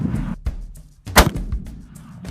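A .416 Rigby rifle fires a 400-grain load, one sharp, loud blast with a quick decay, preceded by a smaller, duller knock; no voices.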